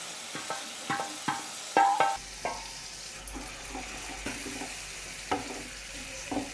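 Onion, ginger-garlic paste and blended tomato stir-fried in a pan for an Indian vegetarian dish, with a spoon scraping and stirring in irregular strokes over a soft steady sizzle, close and fairly quiet.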